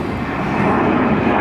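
American Airlines jet airliner at Atlanta airport, a steady, loud broadband roar of jet engines that holds evenly throughout with no break.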